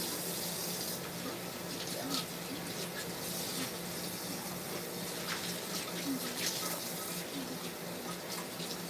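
Water runs steadily from a kitchen tap into a sink while dinner is being prepared, a constant close hiss and splash with small clinks of dishes.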